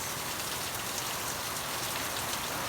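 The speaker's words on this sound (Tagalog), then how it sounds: "Tapos after 1 hour, ayan naman ang ulan, lakas." Heavy rain falling at night, a steady dense hiss of drops beating on surfaces, close and constant without pause, with no voices.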